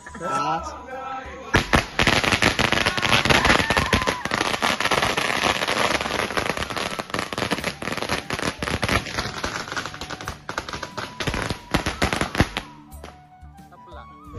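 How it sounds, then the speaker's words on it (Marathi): Rapid strings of firecrackers crackle and pop loudly for about ten seconds at a Tulsi Vivah celebration in Konkan, a dense continuous barrage close by, then stop abruptly. "आता फटाके चला दाखवतो"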